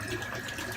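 Water runs steadily from a tap into a shaving bowl beside a leaking sink: a brief, soft, continuous gushing trickle with a faint hum, and no speech.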